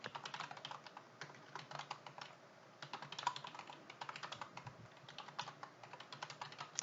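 Rapid clicking keystrokes on a computer keyboard while entering data in an Excel spreadsheet, close and steady with brief pauses between bursts, no voices.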